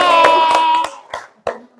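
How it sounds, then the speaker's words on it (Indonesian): A classroom of children gives a brief round of applause, a few quick claps that trail off into sparse separate hand claps, with a voice heard at the start. "tepuk tangan semuanya"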